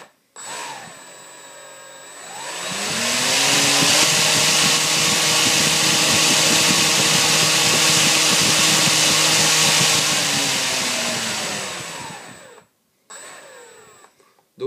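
Powerful electric motor on a homemade invention spinning up to full throttle: a loud, steady high-pitched whine with rough mechanical roar, holding for about ten seconds before winding down, then a brief restart.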